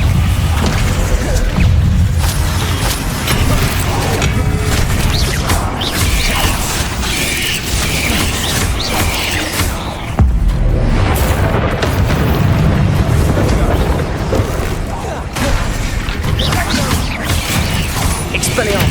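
Spell blasts in Hogwarts Legacy, Confringo and Bombarda, as a continuous loud barrage of booming explosions and crashing impacts with dense rumbling, steady throughout with no clear pauses.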